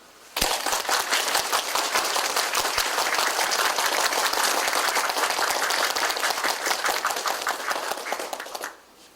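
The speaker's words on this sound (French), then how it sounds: "applaudissons." Sustained, dense applause from a large assembly at a Masonic gathering of the Grand Orient d'Haïti fills the space, beginning abruptly, holding steady and loud for about eight seconds, then fading out.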